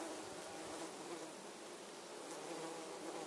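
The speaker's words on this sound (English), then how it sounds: "And here's another sort of brownie bee." A bee buzzes close among lavender flowers in a garden, a steady, soft droning hum that holds throughout with slight wavering in pitch and loudness.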